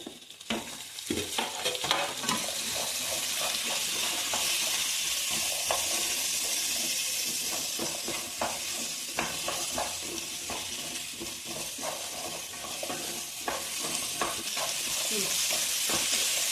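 Potatoes and beans fry with salt in a pan for veg biryani, a loud constant sizzle broken by frequent scraping stirs close by.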